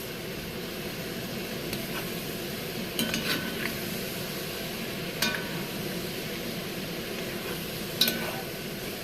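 Small beef pieces browning in a pan for beef bourguignon, stirred with a spoon: a steady low sizzle runs throughout, broken by a few brief scraping clinks of the spoon against the pan.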